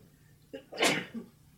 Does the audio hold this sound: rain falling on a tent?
no